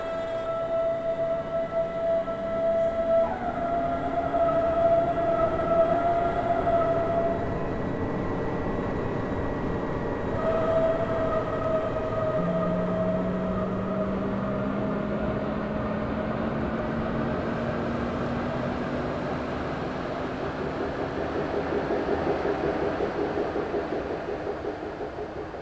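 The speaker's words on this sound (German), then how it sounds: "So, da lassen wir den Zug gleich mal abfahren." A BR 423 electric commuter train departs in Train Simulator, heard from outside with a steady hum as rising motor whines glide up in pitch over about half a minute, fairly loud and without speech.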